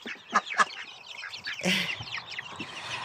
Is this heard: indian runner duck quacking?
yes